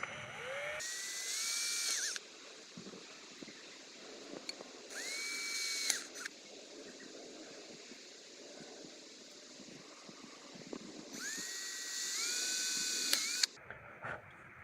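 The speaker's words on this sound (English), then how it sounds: "you're done with the drilling as well now." A power drill bores into a metal curtain rail held against a hard surface while fitting curtains in a camper; three separate bursts each spin up with a rising whine and run for one to two seconds, close and fairly loud, with quiet handling between them.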